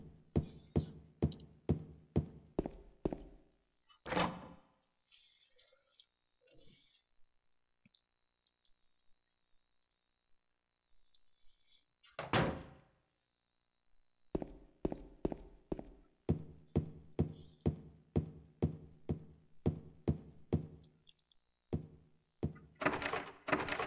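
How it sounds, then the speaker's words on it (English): Locked door in Silent Hill 2 rattling and thunking as it refuses to open, a cluster of sharp knocks between runs of regular footsteps, with a quiet eerie tone in the pauses. "Can't get the door open for good reason."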